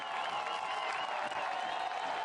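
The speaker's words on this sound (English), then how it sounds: "Crowd's going crazy" A packed soccer stadium crowd at a USL match cheers and applauds in a continuous, distant roar that holds steady throughout.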